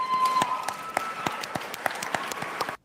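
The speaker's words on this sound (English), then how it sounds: "there's a lot of white folk there clapping for the cocaine" Audience applause from a played video, a dense run of clapping that holds steady at moderate loudness for a few seconds, then cuts off abruptly.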